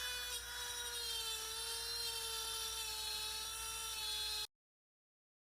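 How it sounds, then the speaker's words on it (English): A high, steady whine of a power router cutting a wooden shoe rack board runs continuously for several seconds, then cuts off abruptly into silence. "use the router with a board, or any straight surface"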